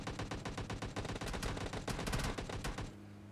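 PUBG Mobile Lite battle royale gameplay fills with dense automatic gunfire, rapid overlapping bursts from several weapons crackling continuously for about three seconds before cutting off to a low game hum.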